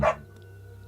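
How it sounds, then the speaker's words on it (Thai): A single dog bark at night, one sharp close yelp at the start followed by a quiet low hum of background noise. "แต่ก็มีเสียงหมาที่เห่าบ้างเป็นบางครั้ง"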